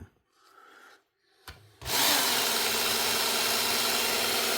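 A Camillus Carbonitride knife drawn across a sharpener: a couple of faint scrapes and a brief knock, then a loud, steady rasping grind that continues without break.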